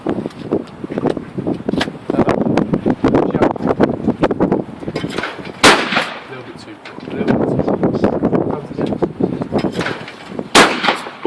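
Shotgun blasts at clay pigeon shooting outdoors, two sharp loud reports several seconds apart amid wind noise on the microphone and talking between shots.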